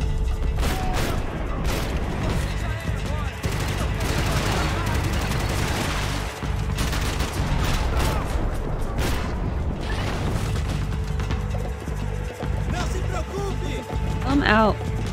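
Rapid, dense gunfire from the video game Max Payne 3 fills the whole stretch, with overlapping bursts and mechanical clatter while people talk over it.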